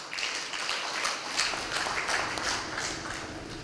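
Steady, dense applause from a conference audience at a Uganda–Tanzania business and investment forum, sustained evenly for a few seconds with no talking over it.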